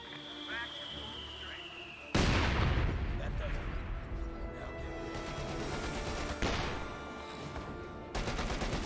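Mortar blasts and gunfire in the video game Company of Heroes 2: sudden heavy booms followed by dense crackling small-arms fire, with a commentator talking over the battle.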